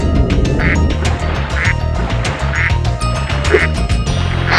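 Rubber duck quacks in the Spyro 2: Ripto's Rage PS1 game, Mystic Marsh level, sounding as short repeated squeaky bursts roughly once a second over a busy, rhythmic game music backing.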